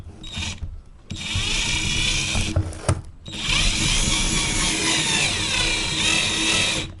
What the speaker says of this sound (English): Let's drill in the pickguard first and see what happens.